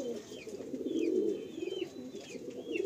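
Madrasi pigeons kept in pairs at a sale coo softly and steadily in low burbling phrases, a few faint higher chirps rising over the steady murmur.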